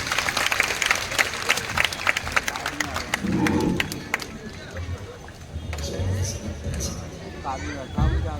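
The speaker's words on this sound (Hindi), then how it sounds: "मुझे बैठने की अनुमति ताली बजाकर दे दीजिए।" An audience at a riverside ghat gathering in Rishikesh claps steadily in a dense, rhythmic burst, with crowd murmur and a voice speaking over it before the clapping trails off into chatter.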